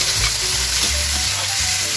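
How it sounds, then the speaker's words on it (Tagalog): Tomatoes sautéing with garlic and onion in hot oil for pinakbet, a loud, steady, close sizzle and crackle of frying that runs without a break, with no talking. "Isunod na natin guys itong ating mga kamatis"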